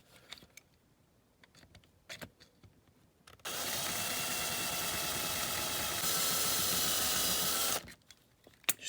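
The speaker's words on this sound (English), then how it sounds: "let's see if we can get a drill into that first rivet" A power drill bores out a rivet on the chassis of a Lesney King Size No.1 Articulated Shovel die-cast model, a steady high whine lasting about four seconds, framed by quiet handling clicks before and after.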